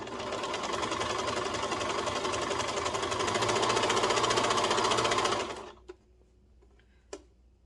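A cover stitch sewing machine runs steadily at high speed while hemming a tee, a loud even whir for about five seconds that stops abruptly, followed by a couple of faint clicks.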